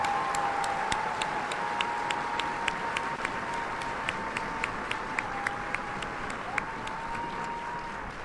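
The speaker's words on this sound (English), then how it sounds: "please join me in a round of applause and thanking the band for their attendance today" A large audience at a Fort Jackson Army basic training graduation ceremony applauds steadily and evenly for the band, a dense wash of clapping with a faint sustained tone running underneath throughout.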